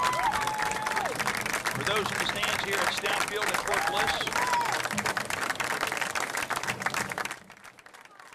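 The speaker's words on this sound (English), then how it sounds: "We get a good round of applause of appreciation" A stadium crowd in the stands at Stout Field, Fort Bliss, applauds at a women's military football match between China and the USA, sustained clapping and some cheering under an announcer's voice over the public address, fading out at the end.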